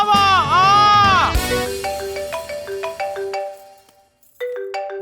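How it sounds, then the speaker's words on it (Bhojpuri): A mobile phone rings in a Bhojpuri family drama, playing a melodic tune loud at first, then a series of plucked notes, briefly cutting out before resuming. "बुचिया का फोन बा।"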